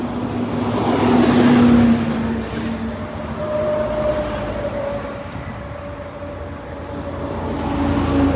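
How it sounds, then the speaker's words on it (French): Heavy trucks passing on an Italian highway beside a broken-down car, a steady roaring rumble of traffic with a rising whoosh near the start and a sustained engine drone throughout, no talking. "quand les camions ils passent, ça fait des bruits de F1 et tout."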